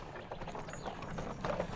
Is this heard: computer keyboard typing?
no